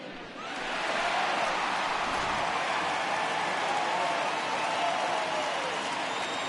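A home crowd cheers in a baseball video game on PS4, a loud, sustained roar of voices that swells after a brief quieter start and holds steady throughout.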